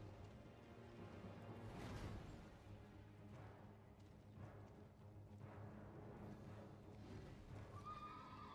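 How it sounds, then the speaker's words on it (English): A horse in the Elden Ring video game whinnies, with clip-clopping hooves and combat noise under a steady game soundtrack throughout. "I have to kill the horse."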